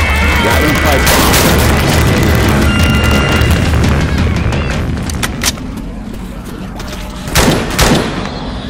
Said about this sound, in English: Got him, pipe bomb.